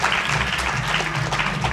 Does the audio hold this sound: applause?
yes